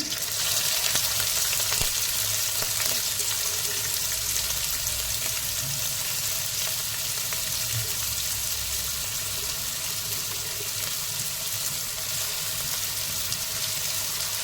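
Onion and potato fry in hot oil with a steady, dense hiss and crackle, close and continuous, with occasional stirring clicks and no talking.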